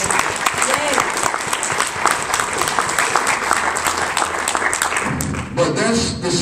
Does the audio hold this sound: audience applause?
yes